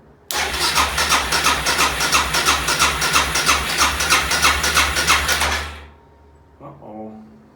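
A motorcycle engine with its choke pulled cranks and fires after more than a year unused, running loud and close with a rapid pulsing beat for several seconds before dying away, then a brief weak sputter.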